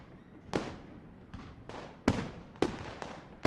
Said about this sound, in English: Fireworks crackled and guns banged